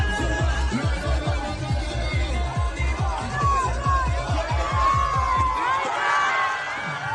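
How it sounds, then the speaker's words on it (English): A group of IDF soldiers in Tel Aviv shouts and cheers together in a loud, rhythmic chant as an Iranian missile is intercepted overhead, the rapid pulsing voices ending in a louder burst of mixed yelling. "IDF soldiers in Tel Aviv cheer as an Iranian missile is intercepted overhead."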